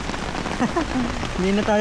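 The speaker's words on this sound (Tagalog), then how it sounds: "makalabas kasi sobrang lakas ng ulan" Heavy rain pours steadily outdoors near a river in Norzagaray, Bulacan, a dense continuous hiss beneath someone speaking close by.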